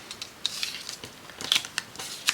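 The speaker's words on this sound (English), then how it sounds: "Let's cut the corners." Scissors cut the corners of a paper tag during a craft session, giving several short, close snips with soft paper rustling between them.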